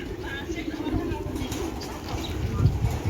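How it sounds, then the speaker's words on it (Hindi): Pigeons coo softly in a household courtyard in Saudi Arabia, low murmuring calls drifting under background noise and nearby people talking. "कबूतर भी है"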